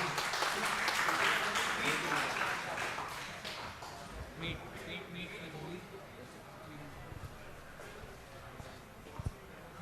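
At a Python programming conference, an audience applauds a speaker: fairly faint clapping that is densest at first, then tapers into scattered claps, with talking heard throughout.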